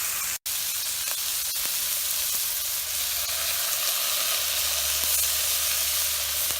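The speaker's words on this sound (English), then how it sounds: "I'm now going to add the tomato sauce." Crushed tomatoes hitting cooked turkey in a hot skillet, a loud continuous sizzle and hiss that holds steady throughout, with a sharp brief dropout near the start.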